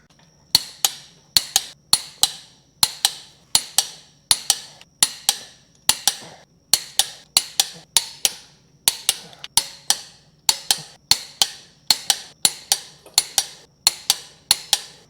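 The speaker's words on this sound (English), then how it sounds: "I'm going to torque all of these to the 100 foot-pound spec" A torque wrench tightens bolts on a supercharged 426 Hemi engine to 100 foot-pounds. Crisp, evenly spaced ratcheting clicks come close and loud, in short quick groups repeated steadily throughout.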